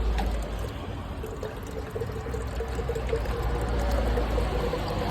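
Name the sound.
water rushing down from mountain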